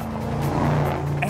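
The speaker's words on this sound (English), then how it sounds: "That's the sound of a monster truck." Monster truck engine roaring, a short loud burst of low droning motor noise lasting about a second.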